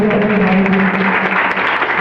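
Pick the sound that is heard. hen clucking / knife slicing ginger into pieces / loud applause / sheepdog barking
loud applause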